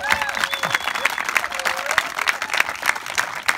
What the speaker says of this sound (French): Oui, c'est vrai, on peut l'applaudir. Applaudissons-la correctement.